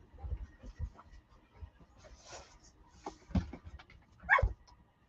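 Dogs being let outside give a few scattered barks and whimpers against soft shuffling and movement, with the loudest yip near the end.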